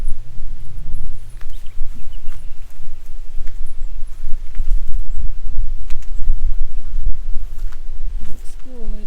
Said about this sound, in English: It's pretty windy right now, actually.